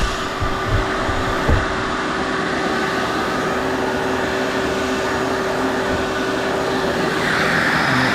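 A Hyde dust-free drywall sander vacuum picks up sawdust from a tabletop with a steady, loud whooshing hum and a constant tonal whine, plus a brief knock early on.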